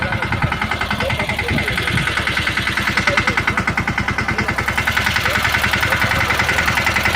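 A farm tractor engine idles steadily with a fast, even chugging pulse, close and loud throughout, on a rainy day on the farm.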